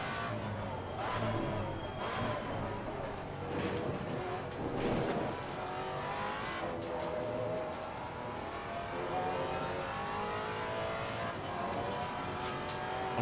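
A Maserati MC GT4 race car in Assetto Corsa Competizione, its engine droning and rising in pitch through repeated gear changes, loud and continuous for the whole stretch, with faint talk underneath.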